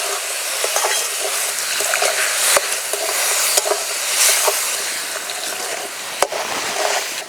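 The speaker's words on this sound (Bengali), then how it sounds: "অল্প অল্প দুধ দেবো আর নাড়তে থাকবো" Semolina halwa stirred in a pan as milk is added bit by bit, a soft bubbling sizzle with scraping spoon strokes and a few sharp clinks, near and without speech.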